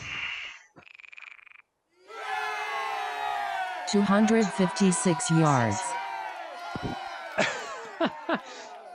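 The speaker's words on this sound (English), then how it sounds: "It had the crowd cheering." Crowd cheering sound effect played by a Swing Caddie SC300 golf launch monitor indoors after a drive, a loud burst of cheers and whoops rising after a spoken yardage readout, with a person exclaiming over it.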